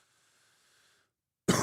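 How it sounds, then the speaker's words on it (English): A single sharp cough lands right into a microphone after a stretch of near silence, loud, close and brief. "I didn't mean to cough into the microphone."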